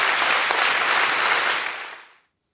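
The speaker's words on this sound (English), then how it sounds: "Give her a big round of applause." An audience gives a big round of applause to the lecturer after an arts lecture. Many hands clap in a thick, continuous burst that holds steady, then fades quickly into silence near the end.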